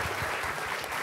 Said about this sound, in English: I just want to give you a little applause to all of you guys here.